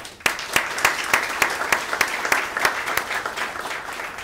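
An audience at an Australian honours investiture ceremony applauds official guests, giving steady, dense clapping with sharp individual claps standing out, loud and close, continuing for several seconds.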